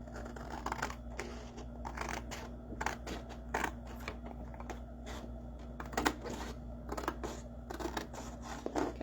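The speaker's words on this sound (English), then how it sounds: "let me cut where I was supposed to cut here." Scissors cutting paper for a craft project in a hotel room, a series of quiet, close, irregular snips and rustles over a low steady hum.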